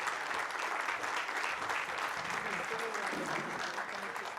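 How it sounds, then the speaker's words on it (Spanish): Steady audience applause for departing panelists at an international forum on privacy and electronic government. It stays fairly loud throughout, with a few voices faintly mixed in partway through. "Despidámoslos con un fuerte aplauso."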